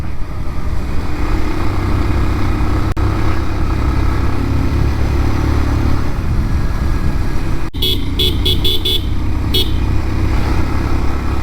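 A 2024 Bajaj Pulsar 150 motorcycle engine drones steadily while riding, under wind rush, and a quick series of horn toots sounds near the end.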